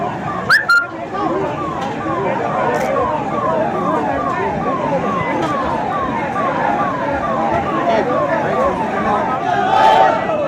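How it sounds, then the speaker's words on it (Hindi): An ambulance siren wails at a street event in Sawai Madhopur, Rajasthan, during the Bharat Jodo Yatra, its repeating sweeping tone steady and fairly loud for the whole stretch over crowd noise and voices. "वो एम्बुलेंस को निकलने दीजिए।"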